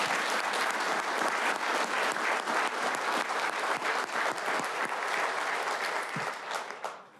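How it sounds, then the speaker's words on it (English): A council meeting audience claps steadily for a group of young people, dense sustained applause filling the room with no talk over it before it fades at the end. "One more round of applause for them."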